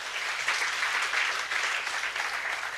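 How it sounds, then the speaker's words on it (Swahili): Steady, dense applause from a church congregation praising Jesus Christ during a New Year prophecy service, sustained and fairly loud throughout with no voices over it. "Makofi kwa Yesu Kristo."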